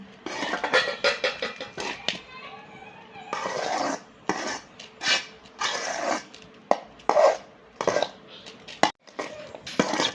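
Tamarind rice (puliyodharai) stirred in a pan, a run of irregular metallic scrapes and clanks of a spoon against the pan, close and fairly loud, with short pauses between strokes.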